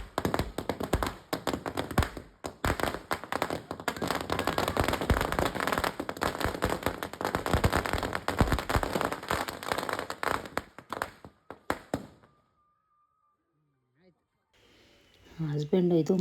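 Firecrackers set off at home after a Dasara Ayudha Puja: a dense run of sharp crackling pops and bangs for about twelve seconds, then a quiet gap before talk resumes near the end.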